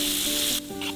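Raisins sizzle steadily in a hot pan as they are sautéed with turmeric, a bright continuous frying hiss that drops off partway through and then resumes more softly, with no talking.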